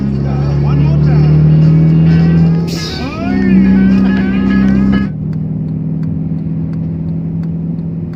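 A Honda Civic fitted with an HKS muffler idles and revs through its exhaust. The engine drone runs steady and loud, with a rising rev near the middle, while people talk close by.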